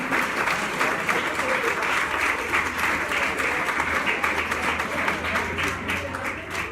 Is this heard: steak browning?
no